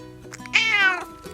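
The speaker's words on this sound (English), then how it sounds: "That's the cat where Pet's sitting at the moment." A single drawn-out meow from a nearby cat, rising then falling, with a few softer chirpy sounds just before it.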